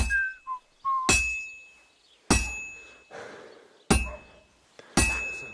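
In Kingdom Come Deliverance 2, a smith whistles a few short tuneful notes while hammering a sword at the forge, followed by four loud, ringing metal strikes spaced about a second apart, close by.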